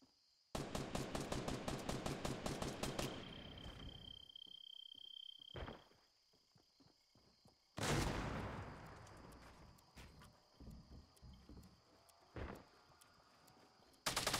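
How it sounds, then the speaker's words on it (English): Gunfire from players shooting each other in the video game Fortnite: a rapid automatic burst, then scattered single shots and a second heavy burst, loud against quieter stretches of game ambience. "Must hurry before they stop firing at each other."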